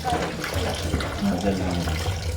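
Sliced pork for Bicol express being rinsed under a running kitchen tap, a steady close splash of water into a sink with a low hum beneath and a voice speaking briefly over it.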